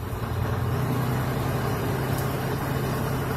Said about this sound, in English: Accelerate to increase your RPMs between